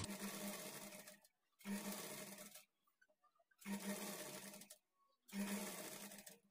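A sewing machine stitching a plain blouse runs in four distinct bursts of about a second and a half each, separated by short pauses, with a close, steady mechanical whir and no talk.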